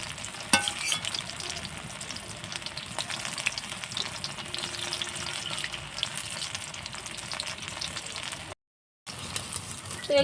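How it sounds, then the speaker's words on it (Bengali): Jackfruit and shrimp pakoras fry in hot oil, giving a steady soft sizzle with faint clinks, continuous and close, with a brief dropout near the end and no talk. "তো সবগুলো আমার প্রায় ভাজা হয়ে গেল"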